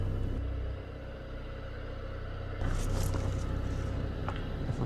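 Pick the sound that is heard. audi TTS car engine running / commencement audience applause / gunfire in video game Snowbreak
audi TTS car engine running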